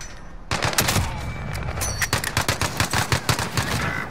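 Rapid bursts of video game gunfire in a multiplayer shooter, dense automatic shots firing in quick rhythmic clusters, loud and close, with other game sounds mixed underneath.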